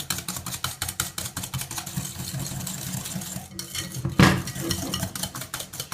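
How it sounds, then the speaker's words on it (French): Egg yolks beaten with sugar in a bowl make a quick, rhythmic tapping and scraping as the whisk strikes the sides, steady and close, with one louder knock near the end. "j'ai juste gardé les 5 jaunes d'œufs que je mélange avec le sucre"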